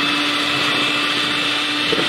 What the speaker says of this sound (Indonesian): mulai kita boleh mixer kembali dengan putaran yang paling rendah